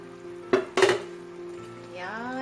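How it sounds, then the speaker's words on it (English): Paneer cooks in a pan on the stove, with two sharp metallic clinks of a utensil against the pan over a low, steady background and a faint rising tone near the end. "I will cook my paneer as this is in little hard form"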